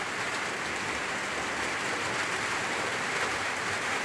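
Heavy rain pours down steadily in a dense, even wash of hiss, close and loud throughout with no voices.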